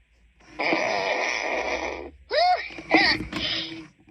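A Furby toy gives a long, buzzy electronic fart, then a few shorter warbling squeaks and chirps. The sounds are close and loud, with no talking.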